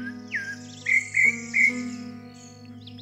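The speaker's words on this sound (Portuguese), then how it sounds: "Ô, passarinho. Tá bem de boa." A small bird chirps outside a large abandoned house, sounding a quick high call followed by three clear, evenly spaced chirps, close and distinct over a low electrical hum.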